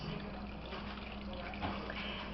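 Brine poured from a measuring cup into canning jars for dilly beans, a soft, steady trickle of liquid heard close and faint over low background hum.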